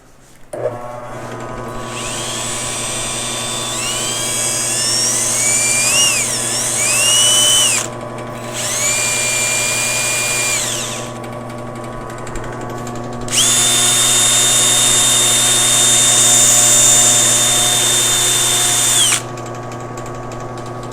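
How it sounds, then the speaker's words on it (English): Guitar part held against a spinning buffing wheel in a guitar workshop, heard as a loud steady motor hum under shifting high-pitched whines that rise and fall as the piece is pressed on, eased off and pressed on again. "Take this over the buffing wheel."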